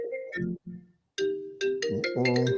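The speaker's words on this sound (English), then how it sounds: "Emergency incoming. Okay, let's let him take the phone call." A phone ringtone signalling an incoming call during a live collectors' chat: a bright, melodic electronic tune with a brief pause, then repeating tones, clear and fairly close.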